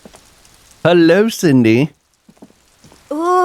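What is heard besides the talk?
rain in video game Disco Elysium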